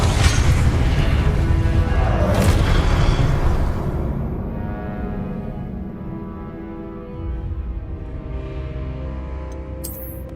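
A fire spell cast in Hogwarts Legacy flares up as a loud, dense burst of roaring energy that lasts several seconds and then settles into a lower, sustained rumble, with a faint chime near the end.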